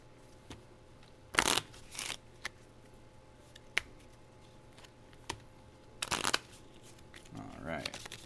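Playing cards are shuffled during a solo game of Super Hot the Card Game, two quick riffling bursts near the start and another pair later, with small taps and handling noises between them.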